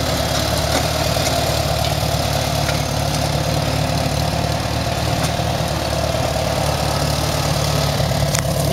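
A 1975 International Farmall 140 tractor engine idles smoothly and steadily, a loud, close, continuous low rumble with no talking over it.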